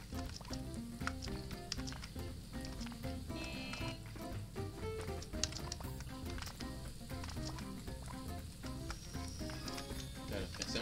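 Food sizzles and burns on a stove in the Overcooked cooking video game, a steady crackling fry running throughout under busy game music and effects.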